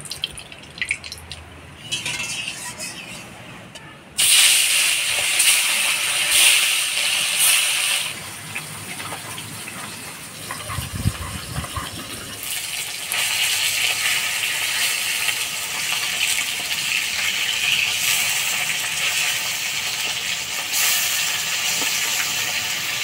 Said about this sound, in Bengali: এবার মাছ ভাজা বসাই দিব।